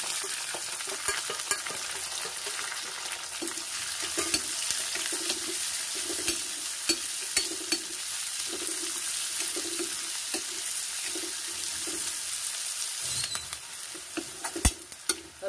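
Onion and garlic frying in a pan with ajwain and bay leaf for a raw banana curry, a steady soft sizzle with faint stirring scrapes and a few sharp clinks throughout.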